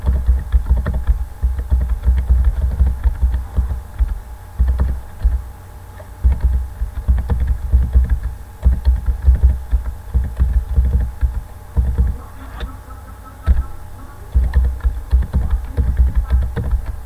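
Steady typing on a computer keyboard while entering marks into a Microsoft Word table, close and fairly loud, with irregular key clicks running continuously and no speech.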